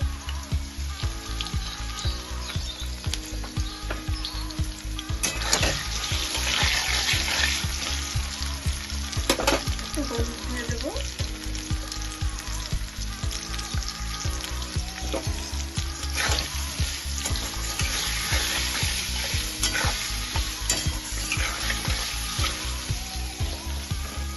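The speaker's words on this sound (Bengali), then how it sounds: "আলুগুলো ভাজা ভাজা হয়ে গেছে" Cubed potatoes frying in hot oil in a pan for a Bengali jackfruit-poppy seed dish, a loud continuous close sizzle with occasional stirring scrapes throughout, no talking.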